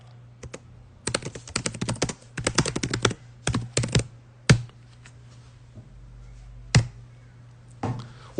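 Marker or chalk strokes on a board during a Portuguese-language sermon, a run of quick scratchy taps in clustered bursts, then a few isolated louder strikes, fairly close with a steady low hum beneath and no talking.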